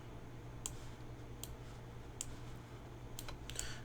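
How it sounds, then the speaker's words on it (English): Mouse clicks during a Pokemon TCG Online match, five or six sharp, isolated clicks spaced irregularly over a low steady background hum, close and fairly quiet. "you could probably hear me clicking"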